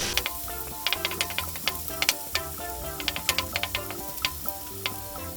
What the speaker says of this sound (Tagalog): Hintayin lang po natin na medyo mag-golden brown po yung ating bawang